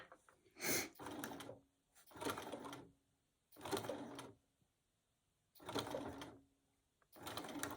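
A sewing machine stitches appliqué on a wallhanging in five short bursts separated by pauses, each a quick run of stitching, faint and close.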